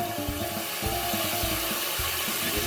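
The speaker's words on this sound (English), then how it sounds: "And put some more water." Water poured into a pan of spinach cooking on a stovetop, a continuous splashing, trickling fill heard up close with no talking.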